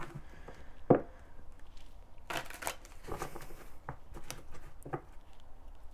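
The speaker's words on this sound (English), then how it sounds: "All right, one more shuffle." Soft, quick riffling and patting of tarot cards being shuffled in short bursts, close by and quiet, with brief pauses between.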